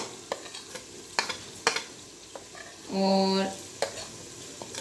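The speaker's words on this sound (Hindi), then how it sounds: "ये हमारा लहसुन अदरक और प्याज अच्छी तरह से भुन गए हैं। अब हम इसमें ऐड करेंगे हल्दी पाउडर और अब नमक ऐड करेंगे।" Garlic, ginger and onion frying in a pan as turmeric powder and salt go in, with a spoon stirring in short scraping strokes and a steady soft sizzle underneath. A sustained tonal ring sounds midway, and a word is spoken.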